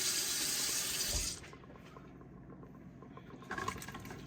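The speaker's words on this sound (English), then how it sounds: "So I am going to add in 2 cups of water into here." Two cups of water pour into a pressure cooker pot while gumbo is being made. A strong gushing stream runs for about a second, then trails off into quieter sloshing and small kitchen sounds.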